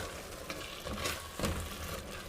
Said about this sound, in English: So I've put my beans in and I stir now.